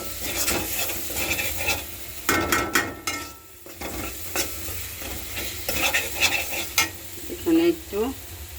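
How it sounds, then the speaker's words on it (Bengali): Spices and greens stirred and sautéed in a pan, with steady sizzling and frying broken by repeated scraping strokes of a spoon against the metal, close and fairly loud throughout. "এখন আমি সুন্দর করে কষিয়ে নিব"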